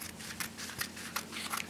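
Scissors trim upholstery fabric for a bar chair in a series of quick, light snipping strokes, about a dozen short crisp bursts close by and fairly quiet, with no voice.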